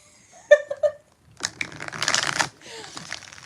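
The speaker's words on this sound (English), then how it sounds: "4 shuffles for baby Casey" A deck of tarot cards is shuffled close by, with a couple of sharp snaps followed by a longer riffling, crackling burst and a softer rustle as the cards settle.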